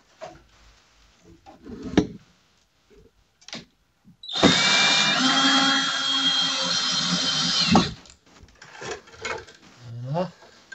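A power drill drives a screw into makeshift garage shelving, a loud steady whine of about three seconds, framed by quieter handling knocks and brief speech before and after.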